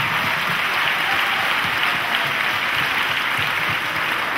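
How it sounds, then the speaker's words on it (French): An audience gives sustained, dense applause for actress Claudia Cardinale, the evening's patron, at a French event; the clapping stays steady and loud throughout with no break. "On applaudit encore Claudia Cardinal"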